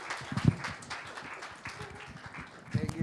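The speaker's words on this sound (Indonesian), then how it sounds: "kita berikan tepuk tangan yang meriah" A church congregation at an evening Sunday service claps for a speaker coming forward; the scattered, uneven clapping is moderately loud, with occasional sharper claps and a voice briefly heard over it.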